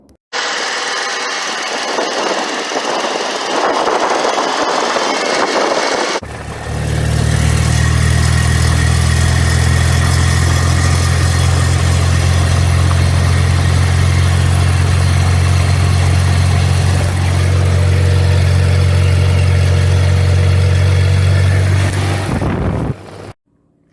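Ural sidecar motorcycle with a rebuilt 2WD shaft, its engine running loud and steady with a deep low drone for most of the span after a brief, brighter, higher-pitched opening.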